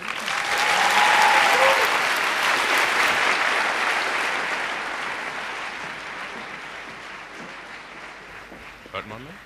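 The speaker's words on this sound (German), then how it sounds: "Applaus für den ersten Vortrag." Applause from a science-slam audience after the first talk, a dense, loud wash of clapping that swells early and slowly thins out over several seconds, with faint voices mixed in.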